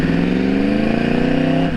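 A 2012 Yamaha R1 sport motorcycle engine revs loud and close, its steady high whine holding pitch through a gear shift with no break in the roar, heard alone without any talking.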